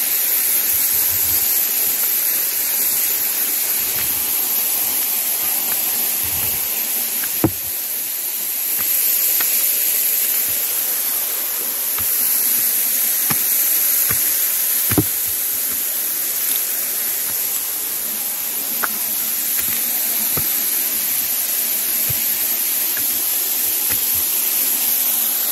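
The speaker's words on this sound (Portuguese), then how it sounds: "Então, ó, a cachoeira, né? Vindo de baixo." A steady, full rush of falling water from a waterfall in Japan roars continuously, broad and noisy, with a few faint clicks and knocks passing over it.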